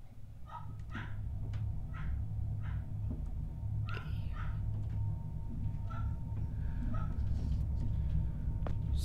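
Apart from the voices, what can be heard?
dog in the background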